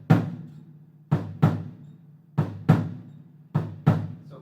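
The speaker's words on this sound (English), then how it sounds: "This next bass drum variation that we have is the heartbeat rhythm." Calypso heartbeat rhythm played on a bass drum: paired low thumps, a softer stroke followed quickly by a stronger one, repeated three times at an even pace, close and alone.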